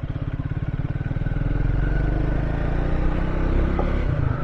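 Triumph Speed 400 motorcycle engine running, a near, loud, even idle putter that rises into a smoother, steadier drone, with no voices.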